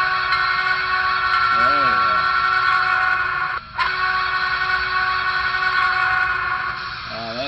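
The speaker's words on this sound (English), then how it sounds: "The whistle." An electronic whistle sounds from a model train locomotive sitting on the rails, a sustained tonal blast that breaks briefly and resumes, set over a continuous engine hum.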